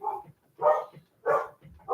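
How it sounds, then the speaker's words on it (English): A dog barks indoors, three or four moderately loud barks in a steady rhythm with short gaps between them and no talk over them. "I'll let her bark a little, and then I gotta stop her."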